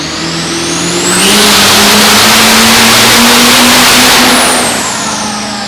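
Diesel truck engine at full roar on a dyno at the Diesel Power Challenge, a loud sustained bellow that builds and holds at a violent high pitch for several seconds before easing slightly.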